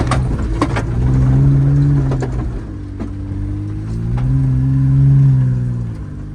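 A car engine revving hard while climbing a steep uphill track, a steady mid-pitched drone that rises and falls in two long surges, close and loud with no talk.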